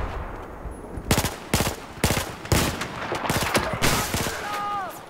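Rapid bursts of gunfire in Battlefield 4 on PC, a string of sharp cracks and short automatic volleys, loud and close, with faint talk in the background.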